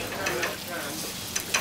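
Food sizzles and fries steadily in a pan in a busy professional kitchen, with stirring clatter and short sharp scrapes near the end, all close and fairly loud.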